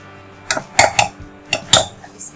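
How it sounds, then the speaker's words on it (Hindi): Boiled potatoes are mashed in a bowl, a utensil striking the dish in about six sharp clinking knocks spaced irregularly, close and clear. "अच्छे से हम मैश कर लेंगे।"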